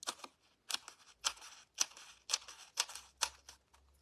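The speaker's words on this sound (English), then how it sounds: "Just use my nice scissors for my glue." Scissors snip through cardstock during a Stampin' Up! paper craft, about ten crisp, evenly spaced cuts at close range with no talk.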